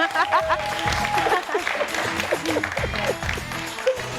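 Audience applause on a French television show, moderate clapping mixed with crowd noise, some laughter and cheering, with voices heard over it.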